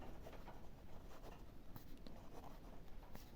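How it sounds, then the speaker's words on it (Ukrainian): Pen writing out a math answer on paper, soft continuous scratching and tapping strokes, quiet and close with faint background hiss. "І записали відповідь"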